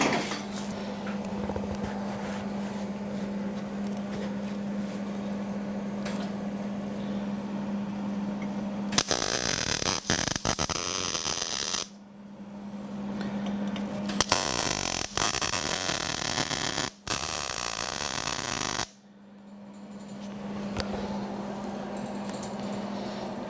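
A welder joins a short piece of tubing to the handle of an oil-fired foundry furnace. Several long bursts of crackling, buzzing arc noise start and stop abruptly, with a steady low hum in the gaps between them.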